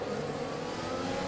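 F1 race car engine in an F1 video game, a steady dense mid-pitched drone held at constant strength, revving continuously through a short stretch with no talk.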